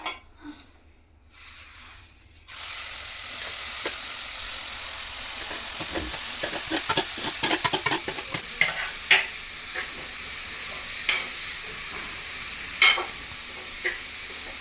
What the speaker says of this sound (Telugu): ఇది బాగా కలుపుకోవాలి, బాగా ఫ్రై అవ్వాలి.